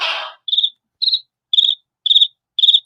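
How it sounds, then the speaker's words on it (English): Crickets chirp in a sound effect: a quick burst of noise, then five evenly spaced, high trilling chirps, each short and clear against silence. "Crickets chirping."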